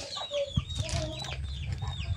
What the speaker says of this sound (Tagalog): Ayan, manok.